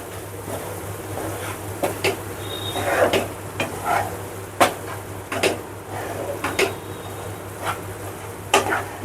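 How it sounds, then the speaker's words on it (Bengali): A spoon stirs milk powder into chhana in a pan over a low flame for kalakand, producing irregular scraping clicks and soft knocks against the pan over a steady low hum, with faint sizzling and no speech. "মিল্ক পাউডারটি খুব ভালোভাবে ছানার সঙ্গে মিশিয়ে নিতে হবে।"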